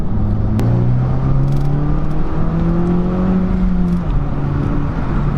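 A 2015 Honda Civic Type R (FK2) engine revs up steadily with rising pitch, dips at a shift into second gear, then climbs again; loud and continuous, heard from inside the car.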